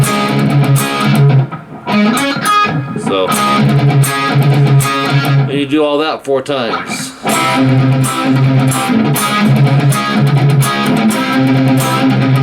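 Distorted electric guitar plays a busy, repeating riff with chugging low notes and quick bends, loud and close, with a brief spoken voice partway through.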